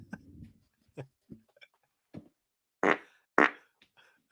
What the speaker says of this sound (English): Oh, you're going to fart.